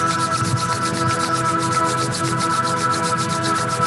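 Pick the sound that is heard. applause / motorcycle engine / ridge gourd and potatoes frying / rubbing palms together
rubbing palms together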